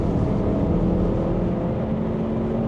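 A Land Rover with a heavy vibration fault drives along, its engine a continuous low, droning rumble with a shuddering texture, moderately loud and steady throughout.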